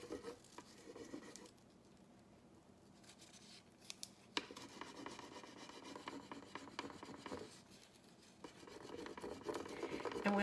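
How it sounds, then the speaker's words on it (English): Steady rubbing and scraping of a hand over a plastic sheet laid on a furniture transfer, pressing the design onto the surface in continuous close strokes that swell louder toward the end, with no talking. "just lay it back down again and rub"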